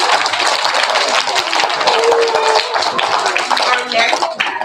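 Applause and clapping for a kindergarten or first-grade class at a school awards assembly, a dense, steady round of many hands filling the room with a few voices mixed in.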